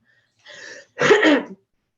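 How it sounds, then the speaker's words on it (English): A single short throat-clearing sound followed by one raspy cough, close and clear in a quiet room. "hopefully this cough will go away"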